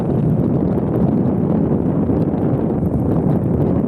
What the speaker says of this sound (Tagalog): Malamig din yung hangin dito eh.